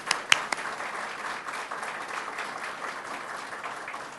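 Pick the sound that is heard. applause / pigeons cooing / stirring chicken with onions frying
applause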